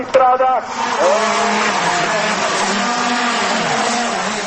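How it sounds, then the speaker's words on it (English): Go-kart engines race around the main town square in Maranello, a loud, buzzing, continuous whine with tire squeal and passing karts, while someone narrates over the racing noise. "A Sunday afternoon kart race around the main square is always a popular draw."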